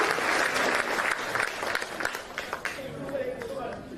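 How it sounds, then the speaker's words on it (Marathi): Audience applause for anganwadi workers at a large women's gathering in Sindhudurg, a dense burst of clapping from the crowd that thins and tapers over a few seconds, with some chatter mixed in. "जरा जोरदार एकदा सगळ्यांनी सर्वांसाठी आपल्या अंगणवाडी ताईंसाठी जोरदार टाळ्या वाजवा."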